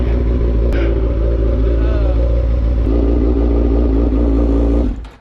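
A Lexus SC300's engine runs at a steady, loud, close idle with a deep droning rumble and slight wavering, then cuts off abruptly near the end.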